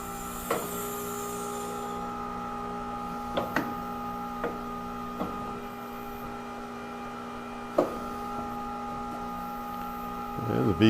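Tire changer machine rotating to dismount a tire assembly, a steady mechanical hum with a few sharp clicks and knocks scattered throughout, fairly quiet, with a brief rumble near the end.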